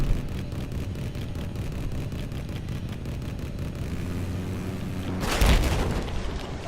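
Explosion in the video game Battlefield 4 on a test range, a heavy boom bursting out near the end over a steady rumble of gunfire and engine-like game noise, loud and close.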